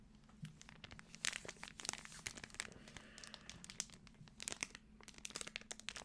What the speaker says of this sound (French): Je sais pas si tu aimes ces bruits là, de craquement comme ça.